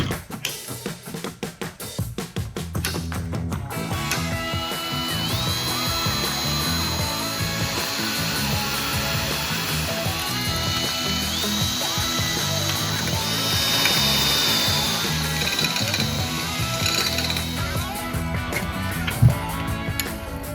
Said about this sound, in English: I'm gonna try to put a hole in the center of each of these rivets using a pretty small bit.